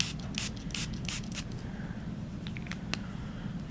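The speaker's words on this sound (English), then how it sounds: "We're going to spray it with a little water" Several quick hissing spritzes from a spray bottle in a rapid burst, close by, followed by soft rustling and handling noises.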